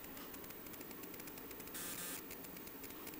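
The cooling fan at the back of an HP 8640B signal generator makes a faint, steady airy whisper, with no other sounds.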